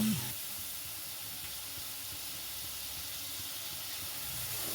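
Mustard paste hitting hot oil with spices in a pan while making a green tomato tok, giving a steady close sizzle and hiss that holds evenly throughout with no talking.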